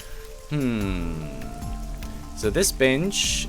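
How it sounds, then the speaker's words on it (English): Rain in the video game AI: The Somnium Files hisses steadily in the background while someone speaks over it throughout. "The rain is depressing."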